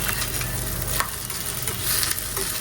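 Homegrown okra fries in a pan with chili and salt, a close, continuous sizzle with quick stirring scrapes, and no voices.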